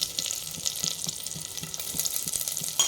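Chopped onions fry with a pinch of cumin in a pan, a steady close sizzle broken by a regular rhythm of stirring strokes, with no voices.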